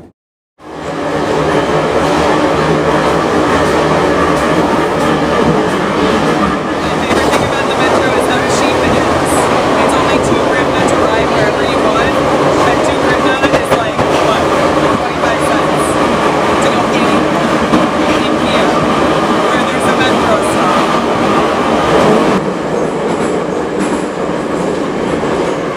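Kiev Metro subway train riding underground, a loud, steady rumble and roar of wheels on rails running continuously throughout, with faint clatter and muffled voices beneath the train noise.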